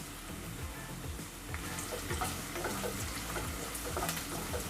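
Onion, garlic and curry leaves sauté in oil in a pan for bottle gourd kootu, a soft, steady sizzle with light stirring scrapes, fairly quiet and continuous.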